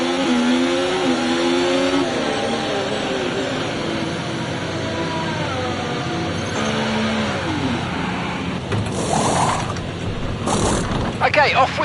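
An F1 car leaving the pit stop in the F1 24 video game at the Australian Grand Prix: a steady engine drone that rises in pitch through the gears, with mechanical clunks and bursts of noise near the end, under a speaking voice.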